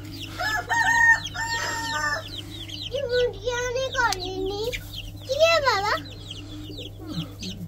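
White Shamo chickens clucking and a rooster crowing up close, several drawn-out calls and rising crows over a steady low hum, with a voice faintly in the background.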